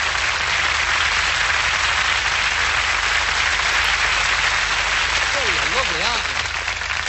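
Sustained audience applause after a magic trick, a dense steady wash of clapping filling the whole stretch, with a brief whistle-like warble near the end.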